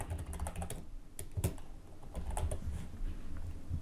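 Computer keyboard typing out a search, quick bursts of light clicking keystrokes with a short pause in the middle, close and fairly quiet with no voice.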